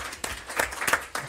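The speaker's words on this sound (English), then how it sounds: "those schools deserve a round of applause" An audience at a school district board meeting gives brief applause, a short patter of scattered claps in a room, moderately loud with no talk over it.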